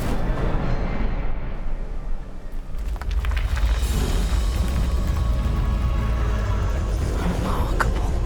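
An Incendio fire spell cast in Hogwarts Legacy erupts in a loud, rumbling blast with crackling fiery bursts and deep booming low end, sustained for several seconds amid ongoing game action.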